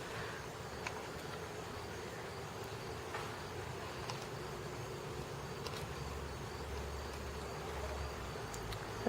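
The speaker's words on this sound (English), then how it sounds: "The anise hyssop is all flowering, and I don't know if you can see all the bees on it" Bees buzz steadily around flowering anise hyssop in a raised home garden, a faint continuous insect drone with soft outdoor ambience and no talking.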